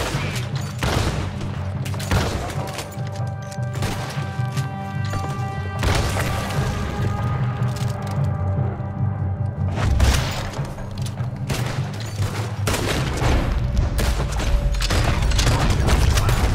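Cannons firing in Red Dead Redemption 2, heavy booming blasts repeated in irregular volleys with crashing impacts over a constant rumbling background, loud and close.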